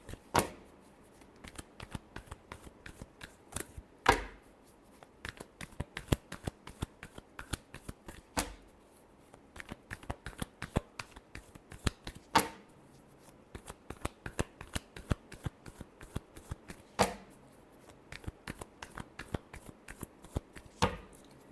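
Tarot cards are shuffled near and quietly in rapid riffling bursts of soft clicks, repeating in short rhythmic runs with no talk.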